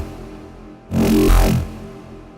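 A wavetable synth patch plays a sustained buzzy tone while a simple LFO sweeps it, opening into one bright, loud swell in the middle before settling back.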